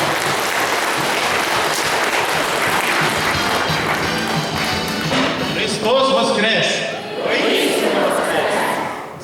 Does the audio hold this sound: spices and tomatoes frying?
no